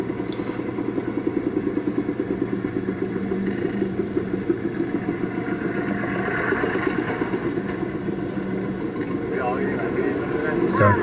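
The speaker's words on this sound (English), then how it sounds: "This is one of the old tractors that they got from the Russians." An old Russian-made tractor engine runs steadily in a rice-growing area of Vietnam, a continuous mid-pitched rumble heard throughout, with voices talking over it.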